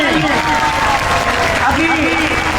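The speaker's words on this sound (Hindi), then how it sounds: "बहन के लिए तालियां होनी चाहिए।" Protest crowd in Malir, Karachi, demonstrating against an arrest and police violence on women, applauding someone speaker; loud, steady clapping runs throughout with a voice speaking over it.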